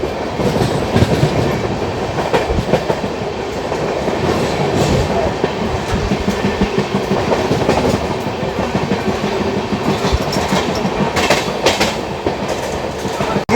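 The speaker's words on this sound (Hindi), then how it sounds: "भोपाल निकलते ही गाड़ी अपनी फ्लैट 130 की रफ्तार में भाग रही है" Tamil Nadu Sampark Kranti Express, train 12651, running at 130 km/h after leaving Bhopal, a loud continuous onboard rumble with rapid rhythmic clickety-clack of wheels over rail joints and occasional metallic rattles throughout.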